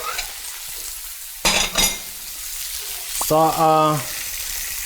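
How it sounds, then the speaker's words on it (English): Fresh bones and mirepoix brown in a pan with a steady close sizzle, a sudden burst of crackling and clatter as the pan is stirred, and a brief voice over the frying. "I just need to wait my mixture of fresh bones and mirepoix to be browned"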